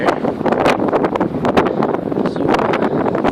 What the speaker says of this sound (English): It's a little bit windy there.